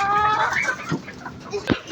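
Chickens cluck and squawk close by in a farmyard coop, with a quick run of clucks followed by a couple of sharper bursts, and no voices over them.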